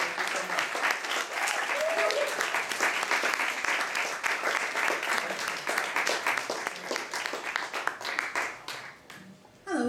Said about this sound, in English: That lovely round of applause going for the best poet with Mr. Thompson.